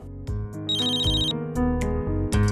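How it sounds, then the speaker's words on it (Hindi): A telephone rings with a repeating electronic melodic ringtone, loud and close, cycling through short tonal phrases with no voices over it. "डीके अंकल फोन नहीं उठा रहे हैं।"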